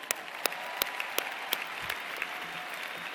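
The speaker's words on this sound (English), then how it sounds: "Let's clap for that" Sparse clapping from communication graduates at a college convocation ceremony, a handful of distinct, fairly faint claps spaced through a quiet hall over a light crowd hush.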